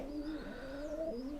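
Giribaz pigeons on a pigeon farm coo steadily, a low rolling murmur of several birds close by that carries on without a break and with no talk.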